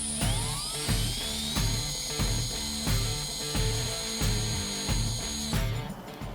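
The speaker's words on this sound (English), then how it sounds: "we're going to bore it out just a bit using a 532 drill bit" A drill with a 5/32 bit bores out a screw hole for a dash plate mount on a 2022+ Toyota Tundra: a high, steady whine pulsing in rhythmic bursts roughly every two-thirds of a second, close and loud.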